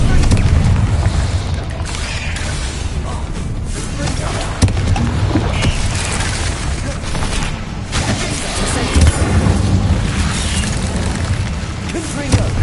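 Magical explosion spells, Bombarda and Confringo, cast in rapid succession in Hogwarts Legacy on PS5, producing loud, dense, continuous booming blasts with rumbling low end that fill the whole stretch without pause.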